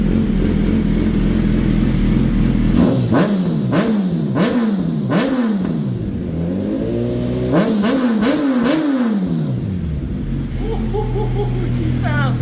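A 2022 Suzuki Hayabusa fitted with Brock's Performance cams and a single exhaust idles loudly, then revs hard in a series of sharp rising and falling blips, two bursts of throttle before returning to a rumbling idle.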